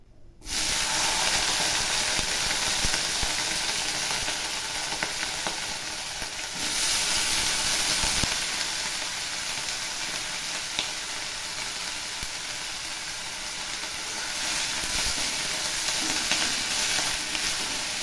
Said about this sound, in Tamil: இப்போ நம்ம இந்த கட் பண்ணி வச்சுருக்கிற கத்திரிக்காயை நல்லா எண்ணெயில் வதக்கிடலாம்.